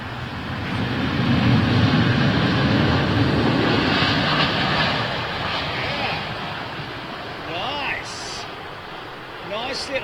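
A British Airways airliner landing at Heathrow, its broad engine roar and rush loud through the first half, then gradually easing, with voices talking over the fading rumble.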